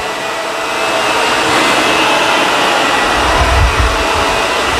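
An upright vacuum cleaner, a Shark Rotator or a Dyson Ball, runs close by with a loud, steady motor whir that swells slightly partway through.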